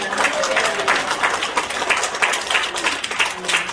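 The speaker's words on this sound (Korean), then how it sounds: "우리 하나님 앞에 감사와 찬양과 영광의 박수로" A church congregation at a Korean worship service claps in praise, producing a steady, moderately loud patter of many hands that continues throughout without pause.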